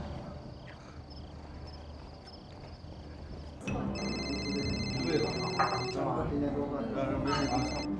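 Telephone bell rings in repeated bursts of bright electronic trills through the second half, loud and close, with voices talking underneath and general room noise throughout.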